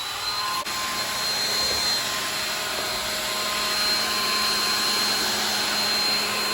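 A hair dryer blows steadily on a wall mirror to soften and melt the glue holding it to its frame, a loud continuous broadband whoosh with a faint whine, close and unbroken throughout.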